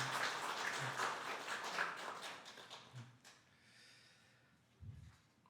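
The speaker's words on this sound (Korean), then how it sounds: "우리 박수로 환영해 주시고" A church congregation at a Sunday worship service applauds in welcome of a new member, a dense burst of clapping that fades after a few seconds, with a brief thump near the end.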